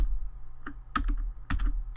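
Keys on a computer keyboard being typed in a few quick, crisp clicks with short pauses between small bursts, close and isolated against a low electrical hum.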